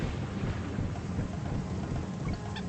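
Rolling thunder with rain rumbles through a stormy lightning stage in Donkey Kong Country. It is a heavy, sustained game sound effect with no speech.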